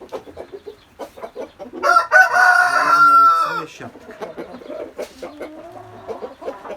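An Indian Asil rooster crows loudly and close by in one long drawn-out call, with clucks and other fowl noises from the farm yard before and after it.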